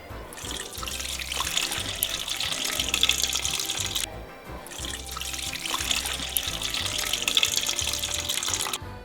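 Water runs from a tap into a container for pretzel dough, a steady close splashing stream with a brief pause midway, with no talking.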